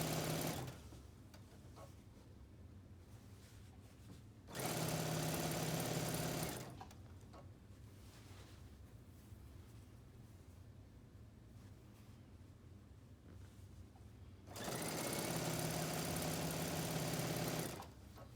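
Home sewing machine running two long bursts of steady stitching along quilt binding, close and loud, separated by quieter stretches of low hum and handling.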